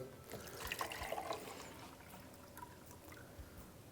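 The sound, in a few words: tap water poured into milk carafe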